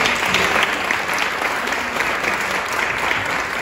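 Steady, dense applause fills a hall at a national award ceremony honouring eco-labelled daycare centres, a large audience clapping loudly and continuously without a break and with no talk on top.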